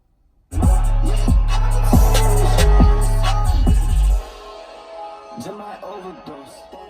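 Loud music with a heavy, rhythmic bass plays from the radio of a 2009 Mercedes E350 (W211) for a few seconds, then cuts off abruptly, leaving a quieter background with faint sounds.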